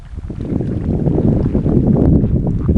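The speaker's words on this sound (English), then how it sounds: "we've got this lovely south easterly wind" Steady south-easterly wind blowing across a lake, a loud continuous rush of wind buffeting the microphone with no pauses.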